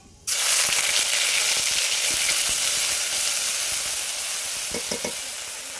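Ginger paste drops into hot oil with tempering spices for a fish curry, setting off a sudden loud sizzle that holds steady and slowly eases, with a few stirring clicks near the end and no talking.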